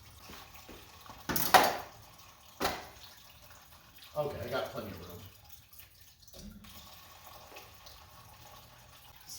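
Gasoline draining out of a car's fuel tank into a collection container, running in a steady pour with a few louder splashy bursts, while someone talks briefly.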